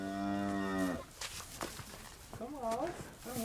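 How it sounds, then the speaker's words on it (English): A cow on a farm sanctuary gives one long, loud, close moo, then the moo gives way to shuffling footsteps and voices talking nearby. "The cow and the little calf are taking their first steps to freedom."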